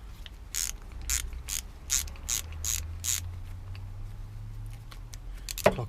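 Close, quick ratchet clicks come in a rapid series of about seven bursts as a wrench tightens the lower front brake caliper bolts on a Japanese motorcycle, with a low hum underneath and a sharp clank at the end.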